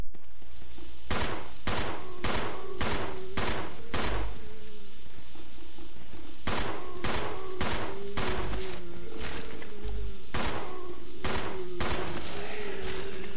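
Repeated bursts of gunfire from the survival horror video game Resident Evil Zero, played on hard mode: loud, sharp shots in irregular clusters over a steady background hum, with no talking.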